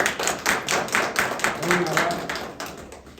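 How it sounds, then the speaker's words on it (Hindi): Audience members at a village theatre event clap in a rhythmic burst to welcome guests. The claps are dense and fairly close, with voices in the background. "कृपया जोरदार तालियों से इनका स्वागत कीजिए"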